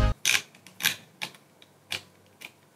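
A series of crisp clicks, about six of them, spaced unevenly over a couple of seconds, close and fairly quiet, from the digital crown of infinitePods Max headphones being turned to adjust volume.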